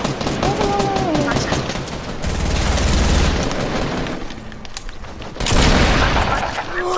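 Shotgun blasts and other gunfire in a Fortnite playground-mode team deathmatch, loud sharp shots in bursts with chaotic game noise, while a player talks over it.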